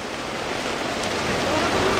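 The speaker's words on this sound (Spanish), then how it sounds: "llueve y ustedes van a ver este aguacero" A heavy outdoor rain downpour pours down as a loud, dense, unbroken hiss that holds steady throughout with no voices.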